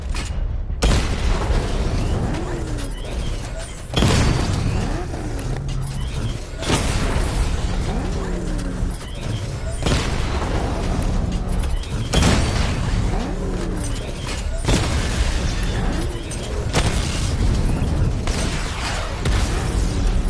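Repeated booming missile barrage explosions from the video game Batman Arkham Knight, with loud sharp blasts recurring every few seconds over a dense continuous rumble of game action.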